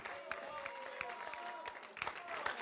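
Wedding guests at a religious ceremony applaud for the groom with faint, scattered clapping and crowd murmur, with a voice speaking over the applause.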